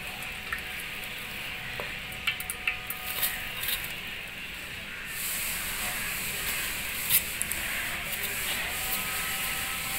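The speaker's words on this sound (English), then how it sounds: "we have to gradually put the coconut oil in this solution" Coconut oil poured gradually into a lye solution gives a steady hiss and sizzle throughout, with a few faint clinks and small pops, close and continuous, with no talking.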